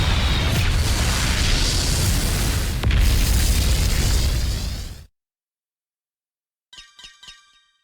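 A loud, sustained explosion roars in the video game Digimon Story: Time Stranger for about five seconds, cuts to silence, then a few short chiming game interface tones follow.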